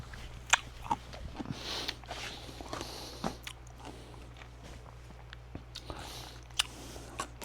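Crisp crunches and chewing come from a crunchy homemade canned pickle being bitten, with sharp bite snaps standing out over close, wet mastication.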